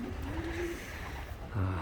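Pigeons coo softly in a loft during a rainstorm, with a low throaty call rising and falling, then a brief second coo near the end over a steady wash of background noise.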